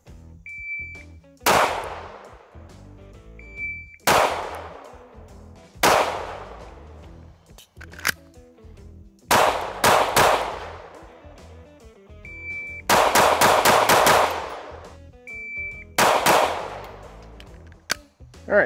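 Springfield Hellcat RDP pistol fired outdoors in sharp, loud single shots and quick strings of several, each with a ringing decay, and short pauses between groups.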